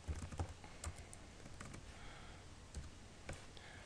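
Computer keyboard keys tapped in short irregular bursts, crisp clicks close up and moderately loud, with no voices.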